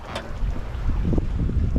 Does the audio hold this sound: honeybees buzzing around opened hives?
no